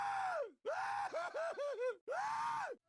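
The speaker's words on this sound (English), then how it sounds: "just listen to their screams." Survivor characters in the Left 4 Dead 2 video game let out a series of pained screams and groans, one long cry, several short choppy yelps, then another sustained scream, close and loud.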